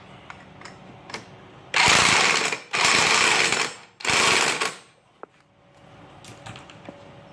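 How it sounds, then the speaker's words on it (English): Three loud, close bursts of a power tool tightening the clutch nut on a GY6 150 Chinese scooter (Lancer 150) during a high-performance clutch install, each lasting about a second with short pauses between, over quiet workshop background. "We'll tighten our nut."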